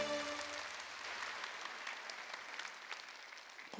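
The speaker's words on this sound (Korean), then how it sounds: "박수 치세요." A church congregation at a Sunday worship service claps together, a soft, steady patter of many hands filling the space at a distance before tapering toward the end.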